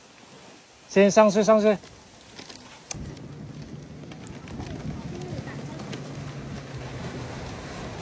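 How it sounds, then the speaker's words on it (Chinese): Heavy rain starts to fall in a village, becoming a steady, close, broad hiss after a brief burst of voices. A person calls out over it. "哎呦，下雨了，大雨大雨。"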